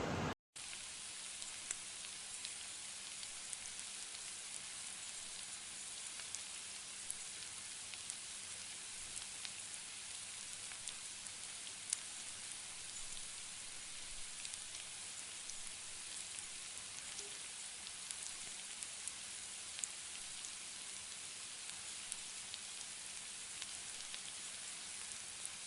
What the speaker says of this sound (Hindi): हमें प्याज को गोल्डन ब्राउन कर लेना है।